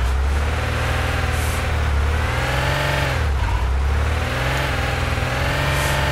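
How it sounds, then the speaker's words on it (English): An off-road truck's engine in the Heavy Duty Challenge simulator, pushed hard uphill: a steady, loud, droning roar with strained pitch that dips briefly mid-way, then resumes. "we are definitely, though, pushing this engine to everything it's ever not been designed to handle"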